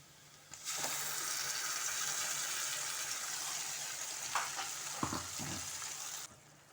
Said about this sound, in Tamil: நல்லா வதக்கிடணும் வெங்காயத்தை.